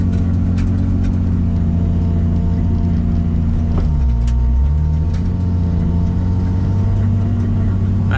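A Toyota Supra engine fitted with a full exhaust idles and runs quietly with a steady low rumble, and a brief swell in revs passes midway before it settles back to an even hum.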